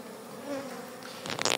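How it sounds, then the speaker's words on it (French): Honeybees crowd a beehive feeder in an opened hive on the first inspection of the year, a steady droning buzz that swells into a louder, busier hum near the end, with no talk. "quand je vois le nombre d'abeilles dans le nourrisseur"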